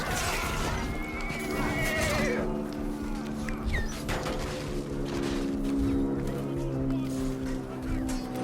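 A horse in the Chivalry 2 medieval combat game neighs loudly in a long, wavering whinny over steady battle noise and hoof clatter.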